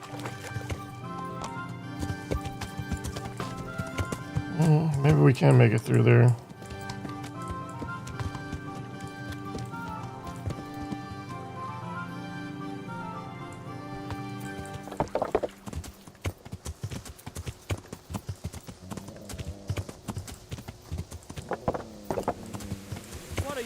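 A horse's hooves clip-clop under a music score while a rider in Kingdom Come Deliverance pushes on, with a brief louder burst partway through and someone speaking once.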